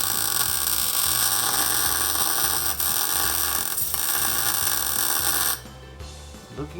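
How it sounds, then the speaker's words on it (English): Welding on the floor of a 1966 Nova race car gives a steady, loud buzzing crackle that runs for several seconds close by and then stops abruptly, leaving a quieter background hum. "we're just gonna weld away now, burn it all in"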